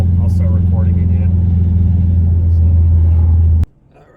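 A turbocharged Acura TSX driving, with a steady, loud, low engine rumble from inside the cabin and faint talk over it, cutting off abruptly near the end.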